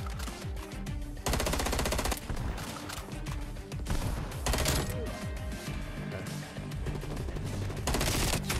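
Rapid bursts of FFAR 1 assault rifle fire in Call of Duty Cold War, loud and close, with dense in-game gunfire and action sounds between bursts.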